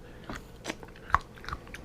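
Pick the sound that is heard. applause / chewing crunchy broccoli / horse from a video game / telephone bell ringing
chewing crunchy broccoli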